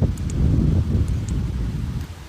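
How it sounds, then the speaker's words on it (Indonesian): Strong wind blows in a steady, rumbling roar against the microphone outdoors at night, with faint rustling and no talk. "Angin kuat, geng."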